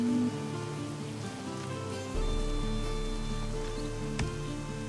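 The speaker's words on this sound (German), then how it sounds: "Es regnet." Rain ambience in the Viking strategy game Northgard: a soft, steady patter beneath low tonal game music, fairly faint, with a brief click near the end.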